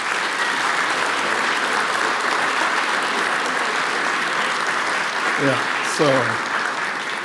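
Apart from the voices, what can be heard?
audience applause for Rosina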